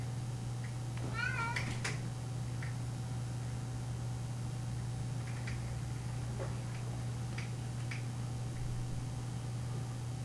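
A pet cat meows a few times early on in a studio where a figure is being sculpted, short rising calls close by over a steady low hum and a faint ticking, followed by quieter scattered noises.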